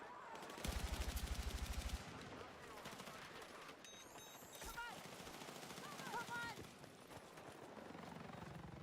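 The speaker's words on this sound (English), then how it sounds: "14 shots." Gunfire in the space game Star Citizen, a rapid burst of repeated shots near the start followed by whooshing and mechanical effects, with people talking over it.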